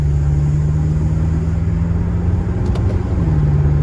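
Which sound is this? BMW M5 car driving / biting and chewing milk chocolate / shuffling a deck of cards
BMW M5 car driving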